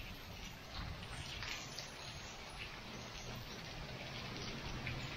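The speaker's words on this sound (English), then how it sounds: "you can hear some hail tinking around" Rain and hail patter faintly and steadily on a family camping tent during a thunderstorm, forming a soft, even hiss with scattered light ticks throughout.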